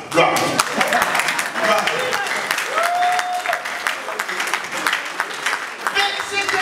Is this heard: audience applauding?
yes